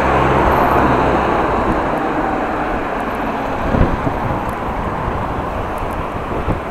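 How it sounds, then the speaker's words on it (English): Steady roar of car traffic on a road near the Ems Canal in Groningen, heard from a bicycle. It stays broad and constant throughout, with wind buffeting the microphone and one brief louder swell midway. "A lot of car noise."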